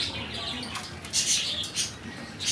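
A pigeon makes a few faint chirping calls in short bursts over a soft, steady background hiss.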